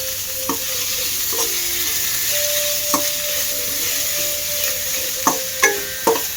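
Onions and curry leaves sizzling steadily in a hot pan for Bansi rava upma, with loud clear frying and several sharp scrapes and knocks from stirring.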